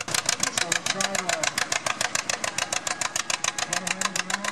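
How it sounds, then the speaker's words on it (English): An antique tractor's engine pounds loudly at a county fair tractor pull, firing in a steady, rapid rhythm as it strains under load, with an announcer's voice faintly underneath. "On this tractor, he's trying to find some fresh dirt on the far right side of the track."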